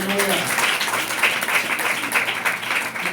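A church congregation clapping their hands in a sustained, dense burst of applause that fills the space steadily and loudly, with a voice faintly present underneath.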